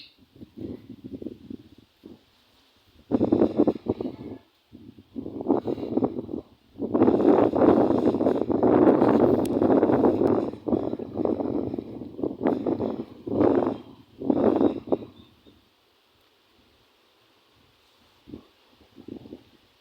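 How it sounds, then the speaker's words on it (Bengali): Strong gusty wind roars in bursts ahead of an expected storm in a rural village in Kushtia, Bangladesh, buffeting the microphone with heavy rumbling swells that rise and fall, then fade to near quiet toward the end. "দেখেন যে পরিমাণে বাতাস হচ্ছে আজকে রাতে ঘূর্ণিঝড় হওয়ার সম্ভাবনা বেশি দেখেন বাতাস"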